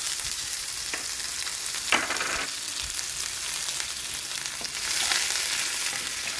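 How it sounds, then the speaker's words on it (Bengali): Chopped onion frying in hot oil with whole spices such as clove in a home kitchen pan for a banana-blossom dal, a steady broadband sizzle with occasional pops and stirring scrapes, close and continuous with no voices. "পেঁয়াজটাকে একটু ভেজে নিতে হবে"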